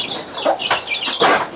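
Country chickens cluck in a pen on a small chicken and goat farm, giving a few short, close, sharp calls in quick succession with no talking.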